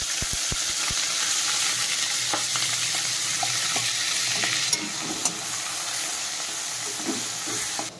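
Crushed onion dropping into hot oil tempered with cumin, green chilli and a bay leaf, sizzling steadily in a pan with a few sharp taps and scrapes of stirring, no talking.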